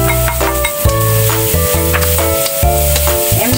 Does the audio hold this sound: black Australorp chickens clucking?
no